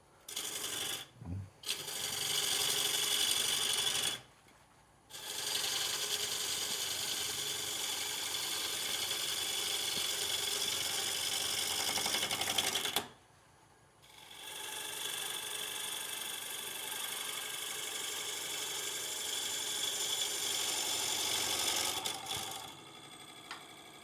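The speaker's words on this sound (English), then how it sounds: "you can really get an excellent cut, a very aggressive cut from the long bevel on this spindle gouge" A spindle gouge takes aggressive long-bevel cuts on a footless wooden bowl spinning on a wood lathe, giving a loud steady rasping hiss in long passes broken by brief pauses, with no talking.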